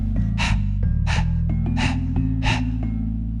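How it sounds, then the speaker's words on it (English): Four sharp, forceful belly exhales of a breath-of-fire breathing exercise, evenly spaced about two-thirds of a second apart, puff out over a low, steady droning background. "It's a powerful belly exhale and a passive inhale"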